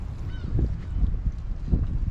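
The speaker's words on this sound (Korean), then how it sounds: "월요일이라서 조용하고 갈매기들만 먹이를 찾고 있습니다" Seagulls call at Gangneung harbour on a quiet day with a strong south wind, a few honking cries rising over steady wind and water noise.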